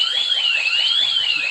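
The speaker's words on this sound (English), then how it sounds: "my alarm went off" A home security alarm sounds after a door is opened, a loud continuous electronic siren wavering slowly up and down in pitch, steady and close throughout.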